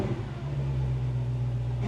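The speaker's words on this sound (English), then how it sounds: "Supercharger sounds pretty good." Supercharged 3.0-litre engine of a Toyota Supra idling and revving up close, a steady loud mid-pitched drone with a low hum, rising briefly without any speech.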